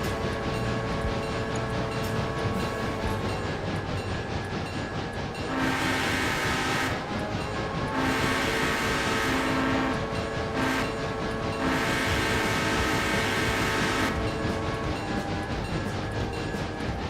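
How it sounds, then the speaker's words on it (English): Diesel locomotive in the RailRoader train simulator labouring slowly up a steep grade with a single engine, a steady loud drone with tonal engine hum and bursts of louder exhaust roar, no voices. "to get up with a single headed loco going up Andrews, even with the diesel, it does go quite slow"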